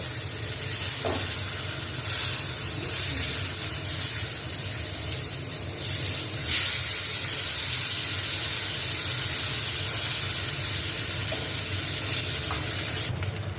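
Eggplant slices fry in a pan with a steady, close, fairly loud sizzling hiss that holds throughout, with a few small crackles and no talking.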